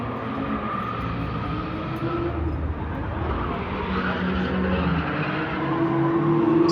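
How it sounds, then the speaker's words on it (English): Distant car engines and tire noise from a drifting competition at the outdoor SEMA car show, a steady broadband roar with rising revs toward the end, heard from afar across an open lot. "they're doing some kind of a drifting competition in the distance"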